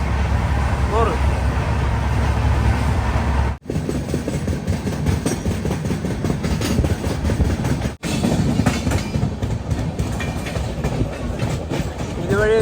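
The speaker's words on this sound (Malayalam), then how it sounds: "ട്രെയിൻ 100 km/h താഴെ മാത്രമേ പോകുന്നുള്ളൂ." A Chhattisgarh Express train between Raipur and Bilaspur runs along the rails below 100 km/h, with a loud, continuous rumble and rattle heard from inside the coach and two brief drops in level.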